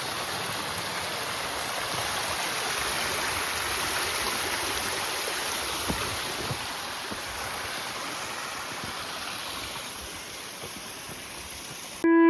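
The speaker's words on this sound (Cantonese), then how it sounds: "呢度就係四疊潭瀑布啦。" Sei Dip Tam waterfall on Pineapple Hill in Hong Kong pours as a steady, loud broadband rush of falling water, constant throughout with no voices.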